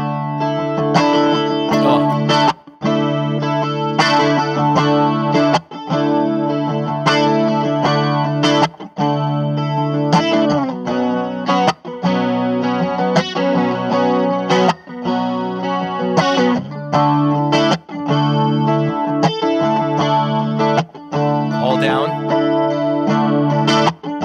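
Electric guitar through a cheap chorus pedal under $100 on randomly chosen presets, continuous strummed chords with a shimmering, wavering chorus tone and some grit, close and loud, with brief pauses between phrases.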